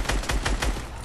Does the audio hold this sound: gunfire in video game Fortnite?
yes